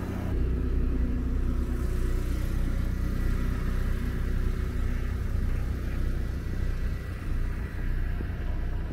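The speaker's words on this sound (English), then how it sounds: "I'm going to turn on my car" A cold car runs at idle on a chilly morning beside an RV, a steady low engine rumble with a slight swell as if revving, close and continuous with no talking.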